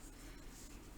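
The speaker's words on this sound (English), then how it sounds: "I'm going to erase first" Eraser rubbing steadily across paper while erasing a lollipop drawing, a continuous close scratchy friction with faint swells, heard alone.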